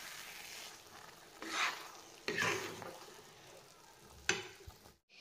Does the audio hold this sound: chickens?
no